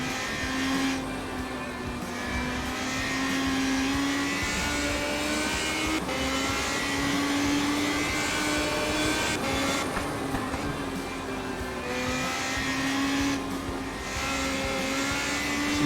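Radical SR3 RSX race car engine in a sim racing game at Mugello Circuit, a loud continuous onboard drone that rises and falls with throttle through the turns.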